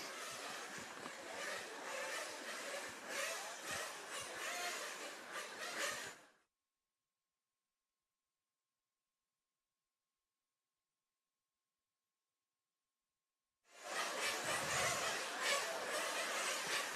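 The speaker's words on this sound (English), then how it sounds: "you hear the noise in the background, that is Heat 5 revving its little backsides off" Engines of 1/8 scale nitro RC race cars at a European track championship roar and rev continuously, loud and dense, cutting out abruptly for several seconds of silence before resuming at full volume.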